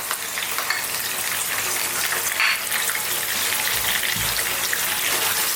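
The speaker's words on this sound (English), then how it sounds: "Now we're going to go in with our chopped onions." Chopped onions go into a hot pan with curry leaves and plenty of garlic and ginger for a lamb karahi curry, giving a loud, close, continuous sizzle and hiss with a brief scrape.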